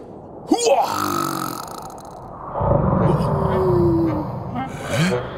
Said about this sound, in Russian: Кто же так громко храпит?